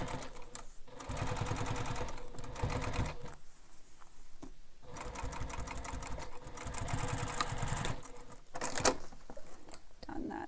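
A sewing machine stitches the second side of an Oriana bowler bag in long runs of rapid, even needle chatter, broken by short pauses. It sounds close and steady, with no voices.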